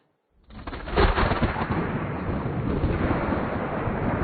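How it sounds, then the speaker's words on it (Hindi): Thunder rolls in a TV drama: a sudden loud crack, then a heavy, sustained rumbling roar that keeps going without any voices. "ये बादल की गरज कुछ अलग लग रही है।"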